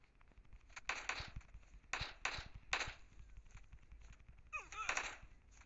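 AK rifle fire in the PUBG Mobile video game comes in several short bursts, fairly quiet and separated by brief pauses, with a voice heard briefly near the end.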